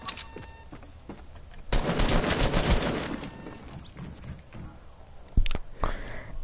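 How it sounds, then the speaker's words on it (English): Gunfire from a shooter video game crackles in a dense, sustained burst in the middle, with a few sharper isolated shots near the end, all under a steady background hum. "I'm getting killed with a shotgun."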